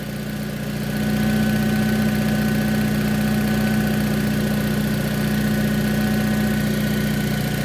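The engine of a 2010 Aveo runs steadily at idle, turning the power steering pump pulley, with a continuous loud hum and vibration that builds within the first second and then holds even.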